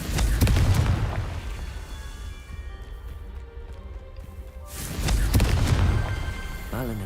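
Confringo fire-blast spells explode in Hogwarts Legacy, two heavy booms with crackling tails about four seconds apart, with quieter game ambience between them.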